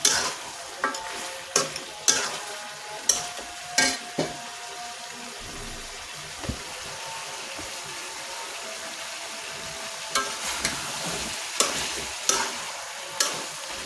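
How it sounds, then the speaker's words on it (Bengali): Beef and yardlong beans frying in a pan, with a steady sizzle under repeated sharp scrapes and clacks of stirring that come in bursts early and late, and no voices. "সাথে বরবটি ভাজি করতেছি"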